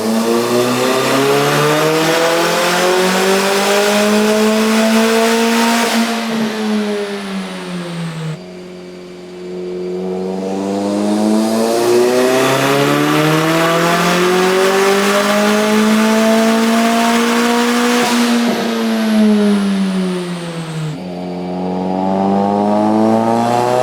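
A Nissan S14 car engine on a dyno revs up through rising pulls, each climbing long and loud before cutting off, with a brief drop between runs, heard close and steady with no talking.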